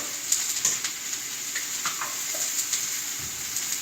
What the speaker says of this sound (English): And then we're going to add a little bit of garlic. To the steak.